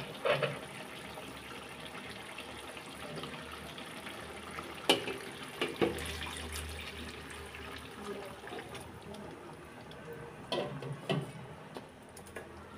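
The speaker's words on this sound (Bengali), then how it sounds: "এখন আমি ঝোলটা অ্যাড করে দেব এখানে।" Broth poured into a pot of chicken curry cooking with potatoes, a soft liquid pour and sizzle underneath, with a few clinks of a utensil against the pot.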